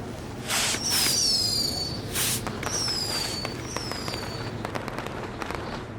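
Fireworks in the video game WWE 2K20 shoot up with whistling, descending streaks and burst in sharp cracks, followed by a scatter of small crackling pops under a steady background hum.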